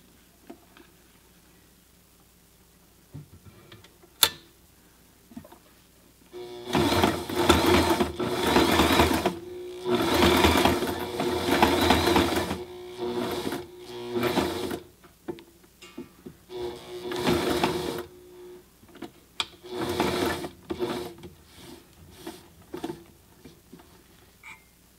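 A Sailrite Ultrafeed LSZ1 sewing machine stitches fabric at full stitch length with tight tension, running in several separate bursts of rapid mechanical chatter with quiet gaps between runs.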